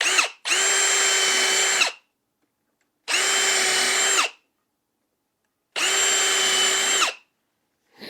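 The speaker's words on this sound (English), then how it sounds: "So let's get busy drilling and doing some screwing stuff." A cordless power drill whirs in three separate bursts of about a second and a half each, with quiet pauses between, while drilling pilot holes for coated deck screws in a wooden potting bench; close and steady, no talk.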